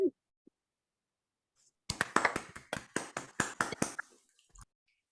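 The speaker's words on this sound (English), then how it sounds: "So congratulations and a round of applause" A small group applauds at a hackathon showcase, a short burst of irregular hand claps that starts abruptly after near silence, stays close and fairly sparse, then thins out and stops.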